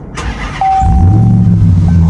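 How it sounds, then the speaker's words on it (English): A Ram 1500 TRX pickup truck engine cranks briefly and fires up loud and close, then settles into a steady, deep idle rumble. "foot on the brake and let's start the truck"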